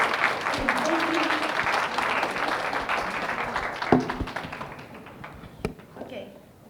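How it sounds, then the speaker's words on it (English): An audience at a high school students' presentation session claps in a loud round of applause, which fades out over several seconds with a few last scattered claps. "Please give a big applause."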